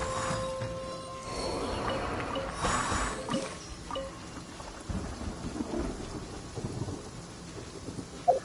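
Steady rain hisses throughout while thunder rolls and rumbles in Genshin Impact, with a louder crackling burst near the start and a sharp knock at the end.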